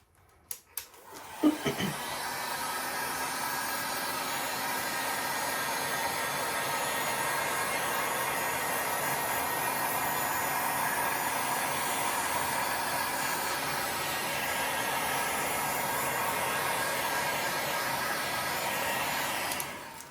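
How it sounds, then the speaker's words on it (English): A heat gun blows a continuous loud, steady whoosh over a resin pour on a board, starting after a few brief clicks and running unbroken almost to the end. "I think we will just hit it with a heat gun, just to heat it up"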